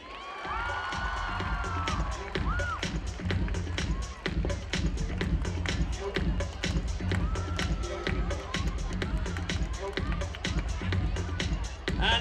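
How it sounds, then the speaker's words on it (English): At a Children's Day celebration hosted by the Bhamla Foundation, the audience applauds and cheers for actress Raveena Tandon, sharp rapid clapping with whoops and children's shouts rising over crowd noise and music. "Big round of applause for Ravina ji"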